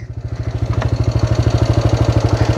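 A motorcycle idling close by on an off-road track, a loud, even engine putter with rapid regular pulses and a faint clatter, running alone.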